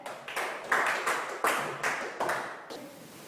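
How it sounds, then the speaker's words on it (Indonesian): A room of students claps for a classmate in a school classroom, a short burst of scattered hand claps that comes in several uneven waves, moderately loud and close. "Tolong dikasih aplaus dulu untuk teman kalian."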